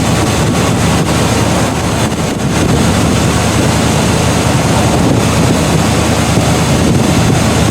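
A constant roar of air blown by a Buick's engine cooling fan buffets the microphone, loud and unbroken, like a big fan running close by.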